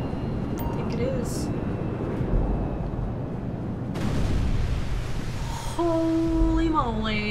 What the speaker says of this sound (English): Let's watch the plane crash.